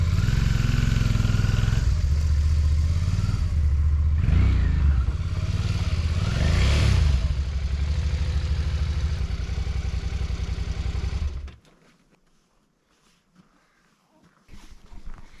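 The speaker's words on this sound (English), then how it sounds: "I think I'm going to bring my motorcycle over here somewhere" A motorcycle engine runs loudly and steadily nearby for about eleven seconds at an Eocene fossil bed, its pitch shifting slightly as it moves, then cuts off abruptly to near silence.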